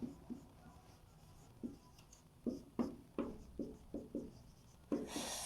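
Pen writing notes by hand on paper, a series of short scratchy strokes in an irregular rhythm, close and fairly quiet, with no talking.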